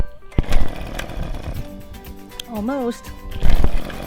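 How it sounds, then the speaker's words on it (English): A gas string trimmer is pull-started with its choke down after priming, giving loud rough engine bursts, a sputtering catch with a rising whine, and a final roar near the end, while a person speaks briefly. "pull this string to turn on the trimmer"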